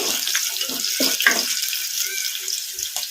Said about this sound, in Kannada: ಈಗ ಹಸಿಮೆಣಸಿನ್ಕಾಯಿ ಹಾಕೋಣ ಕಲಿಸ್ಕೊಂಡೋಣ ಫ್ಲೇಮು ಮೀಡಿಯಮ್ ಫ್ಲೇಮಲ್ಲೇ ಫ್ರೈ ಮಾಡ್ಕೋಬೇಕು